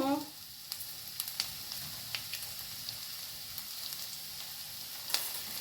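Sliced onions fry for vermicelli biryani, giving a steady, soft sizzle with occasional small pops and light stirring taps close by, and no voices.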